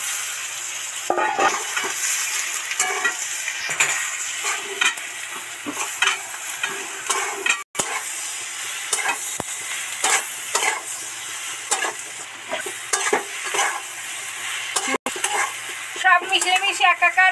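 Sliced potol frying in spiced oil with onion in a pan, a continuous sizzle broken by repeated stirring scrapes and clinks of a utensil against the pot.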